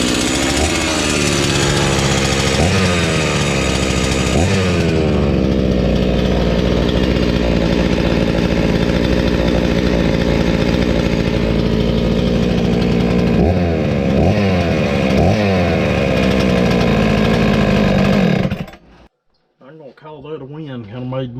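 A tired old Husqvarna 61 chainsaw with a replaced clutch roars loudly through test cuts, its engine pitch dipping and surging under load several times before cutting off abruptly near the end.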